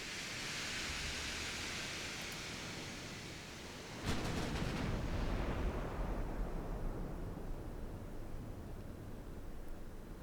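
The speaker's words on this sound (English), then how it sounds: "They're actually firing back. Not hitting much though with their Mark 1 guns" Naval Mark 1 guns firing in the warship game Ultimate Admiral Dreadnoughts, a broad rumbling roar of distant cannon that swells abruptly about four seconds in and holds steady, with no voice.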